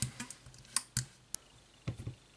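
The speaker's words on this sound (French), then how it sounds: "j'enlève le gros du crayon à la gomme" An eraser rubs pencil marks off a plastic 1/48 Academy P-38F scale model part, giving a few short, close, light scrubbing and tapping strokes in an irregular rhythm, quiet and without talk.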